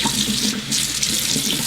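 Steady rush of water pouring from a bathroom sink faucet into the basin, loud and close, a continuous hiss with no pauses or voices.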